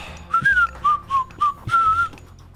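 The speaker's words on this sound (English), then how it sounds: "My whistling was so good." A person whistles a short tune close to the microphone, six clear pitched notes in a quick melodic phrase, alone with almost no talk.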